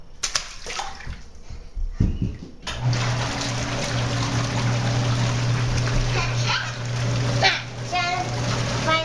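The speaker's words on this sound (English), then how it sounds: "Throw it in the water." A Dorcy 41-2510 floating waterproof LED flashlight is tossed into water, making a sharp splash followed by sloshing and running water, with a voice and other talk nearby.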